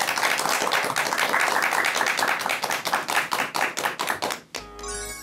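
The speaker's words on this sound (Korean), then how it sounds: "여러분 큰 박수 부탁드립니다" An audience at a lecture hall applauds loudly, with dense, continuous clapping that thins into slower individual claps before stopping abruptly near the end.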